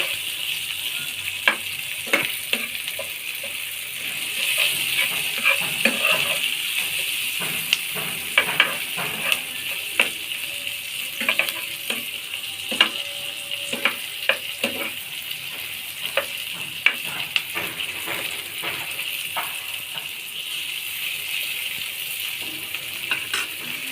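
Garlic frying in oil in a pan for a cauliflower mash, a constant bright sizzle with scattered crackles and pops, close and steady throughout.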